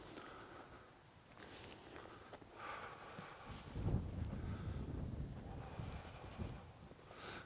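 Wind gusts buffet the microphone on an outdoor disc golf tournament course, a low rumbling roar that swells and fades over several seconds with faint rustling.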